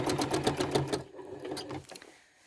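A sewing machine stitches quilting loops along a seam line, its needle running in a fast, steady rhythm for about a second before slowing to a few scattered stitches and stopping.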